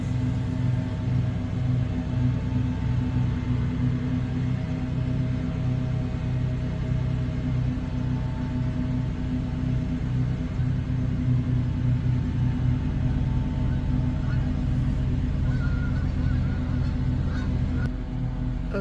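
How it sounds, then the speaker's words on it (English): A 2008 Chevy Impala engine idles steadily and loudly up close, a continuous low rumble with a faint honking tone layered over it, holding nearly level throughout. "Now I can start the car. Now I'm gonna watch the idle, and that should come down in a minute or two."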